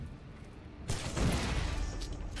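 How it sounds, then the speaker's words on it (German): A sudden explosion bursts in the Shadow Warrior video game after a quiet moment, a loud booming crackle with a rumbling low tail that lingers. "Ich habe eigentlich nicht damit gerechnet, dass er sofort explodiert."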